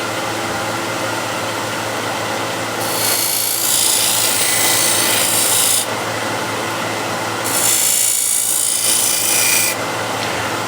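A card scraper shaves a wooden bowl in two distinct rasping strokes, each a few seconds long, bright and close, over a steady background hum.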